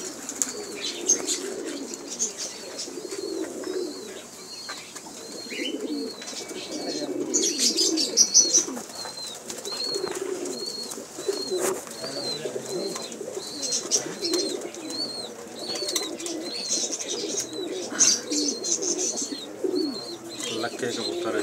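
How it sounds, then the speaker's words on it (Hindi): Fancy Lakka pigeons in a loft, repeated soft cooing with bursts of wing flapping and scattered chirps, mixed with someone talking nearby. "लक्के कबूतर है जी, ब्यूटीफुल कलर में,"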